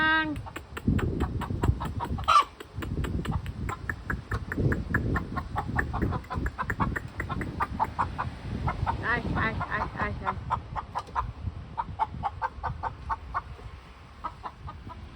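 Backyard hobby chickens cluck repeatedly and closely, with rapid clustered calls continuing throughout while people talk nearby.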